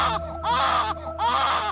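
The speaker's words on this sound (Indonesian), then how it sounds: "ganti suara tangisan bayi terdengar" A baby cries as a horror story sound effect: two close, loud wailing bursts separated by a brief pause, over a steady low background hum.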